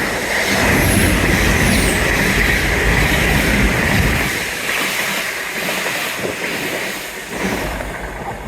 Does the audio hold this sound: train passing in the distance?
yes